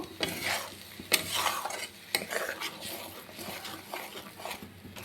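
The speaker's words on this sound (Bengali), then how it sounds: "মশলাটাকে আমি 1 মিনিট ভালোভাবে কষিয়ে নেব" Onion, garlic and ginger paste stir-fried with whole cumin, dried red chillies and bay leaves for a fish curry, a spatula scraping and clinking against the pan in steady strokes over a low sizzle, with no talking.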